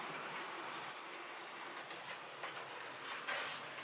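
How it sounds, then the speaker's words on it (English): A model railway train running along layout track, giving a steady faint rumble with light rail clatter throughout, no voices. "And the train on track 2 goes."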